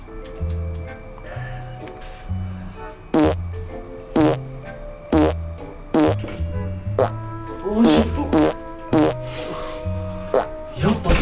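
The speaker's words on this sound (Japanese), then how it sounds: "ほら、おならの音しただろ。" A comedy skit plays a fart sound effect as a run of short, evenly spaced blasts with tick-like clicks, loud and near, while people talk in between.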